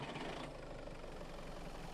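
A vehicle engine idles and runs in the Mist Survival video game, a steady low, rumbling hum with no break.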